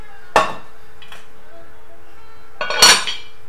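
A cooking pot is pulled out and handled in a home kitchen near the stove, giving one sharp metallic clank and then a louder cluster of clattering knocks a couple of seconds later, with no talk.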